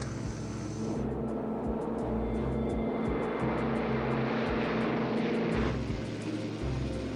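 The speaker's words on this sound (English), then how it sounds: "TWA-2 cleared for takeoff on runway 25 right" A TWA airliner taking off from runway 25 right gives a loud, steady roar of jet engines that holds for several seconds and swells toward the middle, with no voices over it.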